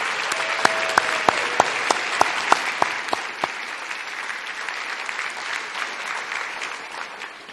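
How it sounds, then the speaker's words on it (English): An audience at a city address applauds, with sharp individual claps standing out at first before blending into steady, dense clapping that continues for several seconds. "Let's give them a big round of applause for their outstanding work."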